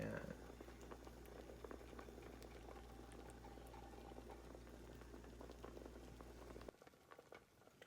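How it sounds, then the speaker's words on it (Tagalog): A pot of coconut milk stew with shark meat bubbles and simmers steadily with a soft, continuous boiling hiss, then the sound drops away near the end. "kumukulo na yung ating ginataang pagi or shark"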